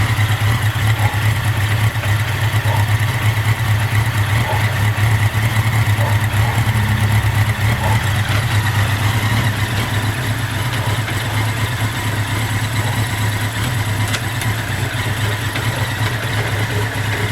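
A 1983 Honda Nighthawk 650cc motorcycle engine runs steadily in gear, a loud, continuous low drone with a constant hum and little variation over the whole stretch, no voices.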